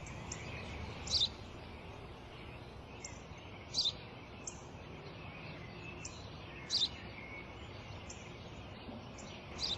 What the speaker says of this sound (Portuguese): É um pardal.